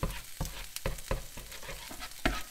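Scrambled eggs with spices being stirred in a hot pan: regular scraping strokes about twice a second over a soft sizzle, close and fairly quiet.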